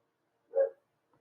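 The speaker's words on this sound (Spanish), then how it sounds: "Perdón por pues, el sonido del perrito." A small dog gives a single short, muffled bark at a distance in an otherwise quiet indoor room, followed by a faint trailing sound.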